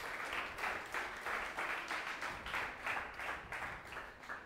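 Congregation applauding in a church service, a steady crowd of hands clapping in rhythmic waves that pulse roughly twice per second, moderately loud and sustained throughout with no speech over it.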